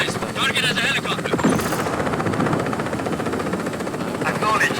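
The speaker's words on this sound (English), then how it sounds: "Be advised, target has a helicopter." A helicopter in the video game Just Cause 4 throbs with rapid rotor chop, loud and close, mixed with engine noise, bursts of action sounds and voices talking over it.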